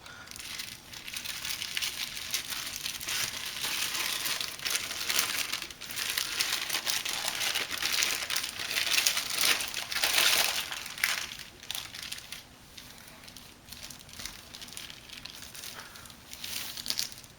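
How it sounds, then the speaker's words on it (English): A silver foil toy parachute from a 1990 G.I. Joe Sky Patrol figure is pulled out of its backpack pack and unfolded, making continuous close crinkling and rustling that swells and fades, with no voices. "just how big this silver foil parachute actually folds out into once you take it out of the parachute pack backpack itself"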